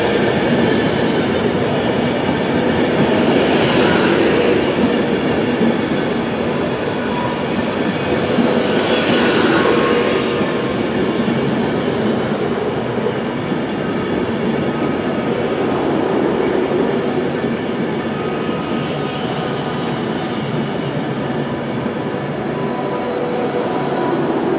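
A Voyager train rolls into a station platform on its way to Manchester Piccadilly, a steady loud rumble of wheels and engine with faint squeals, continuous and close for the whole stretch.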